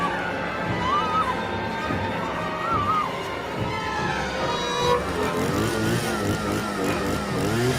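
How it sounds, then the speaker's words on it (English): A car in the Texas Chainsaw Massacre video game runs someone down, its engine roaring and revving steadily throughout, with no clear separate impact standing out. "somebody getting hit by the freaking car"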